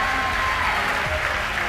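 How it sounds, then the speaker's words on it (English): Excited crowd at a SpaceX launch of Bangabandhu Satellite 1 gives a steady wash of applause and cheering, dense and continuous throughout without pause. "the crowd here at SpaceX is extremely excited"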